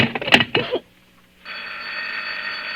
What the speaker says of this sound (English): Stop ringing me, do you hear?